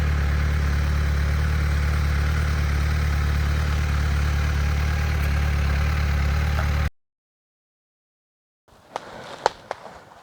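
A four-cylinder 600cc motorcycle engine idles with a smooth, even hum, then cuts to silence before a few sharp clicks and clatters.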